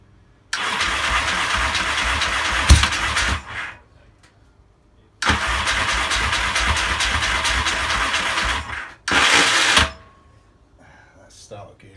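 A Yamaha XS650 motorcycle engine with a faulty starter gear cranks and catches in three loud bursts of rough running. Each burst lasts a few seconds and cuts off into near silence before the next attempt.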